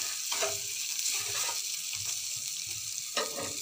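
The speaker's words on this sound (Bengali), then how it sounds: "তো এটা ভালো করে ভেজে নেব" Potatoes fry in a pan with a soft, steady sizzle and occasional stirring scrapes, close and fairly quiet, without voices.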